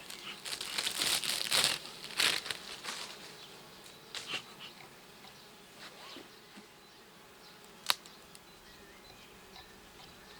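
Honeybees buzz close by at an opened hive being smoked, with crinkly rustling bursts early on, then a quieter steady hum with scattered sharp clicks and taps.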